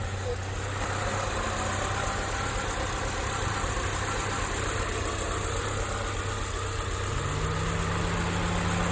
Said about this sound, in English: A running 4G63 DSM, still on jack stand.